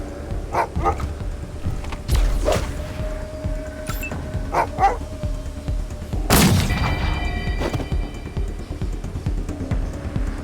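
A dog barks in short repeated bursts during combat in the video game Wasteland 3, with booms and other battle sounds around it.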